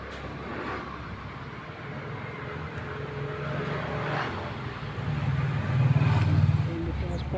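Road traffic with vehicles passing continuously, a steady broadband rumble and whoosh that swells as nearer vehicles go by, fairly close and unbroken throughout.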